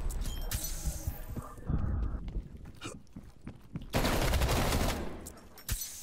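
Rapid bursts of QBZ-83 assault rifle fire ring out in the Call of Duty Cold War beta. The loud volleys are broken by short pauses, with footsteps and thuds in between.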